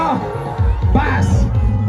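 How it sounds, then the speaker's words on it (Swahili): A lively crowd cheers, whoops and ululates close by, with loud overlapping shouts rising in bursts over talking voices. "Wapi shangwe na vigeregere?"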